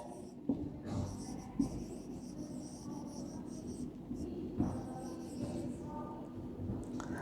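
A teacher writes on a board during a science lesson, the marker or chalk scratching and tapping in short strokes close by against a low room hum.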